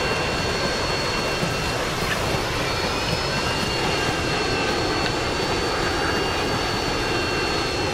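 Aircraft roaring overhead in Call of Duty Modern Warfare 2 multiplayer, a loud, steady broadband jet engine rush that holds without pause, with faint higher whines on top.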